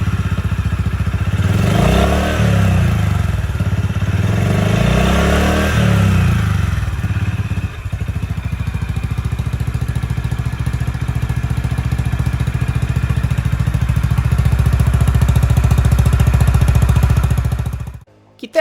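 A Honda CB350 motorcycle's engine runs steadily and close by, with two revs rising and falling early on, then a sustained even idle-like drone that cuts off abruptly at the end.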